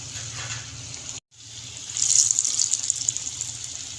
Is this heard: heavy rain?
no